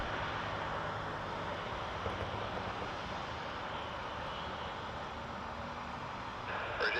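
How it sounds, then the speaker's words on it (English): A Jazz Dash 8 Q400 turboprop on its takeoff roll from runway 23 at Toronto Pearson gives a steady, broad engine roar at moderate distance, with no talking. "Jazz 205 to Sault Ste. Marie on a dash 8. Q400 clear for takeoff."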